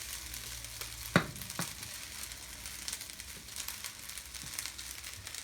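Mee goreng noodles sizzle and crackle in a hot pan as they are stirred, with a sharp metallic clank of the utensil early on and soft scraping over a steady, fairly quiet frying hiss.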